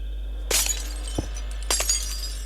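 Glass shattering from Minecraft with a Skyrim sound pack, heard as two loud crashes with scattered debris tinkles between, over a steady low hum.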